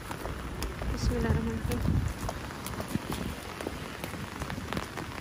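Steady rain falls and patters on surfaces close by while a person under an umbrella speaks briefly over the downpour.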